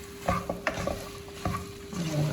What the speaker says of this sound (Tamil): இப்போ நல்லா கிளறி விட்டுருக்கேன்